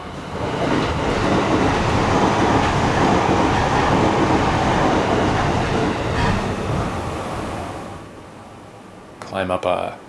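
A train rumbles past close by, a loud sustained roar with rail clatter that fades after about eight seconds, followed by a short burst of sharper noise; recorded on a hike to Kongo Falls near Tokyo.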